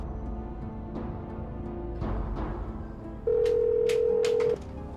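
A telephone call being placed: a few soft dialing taps, then a steady loud ringback tone for about a second, heard alone in a quiet room.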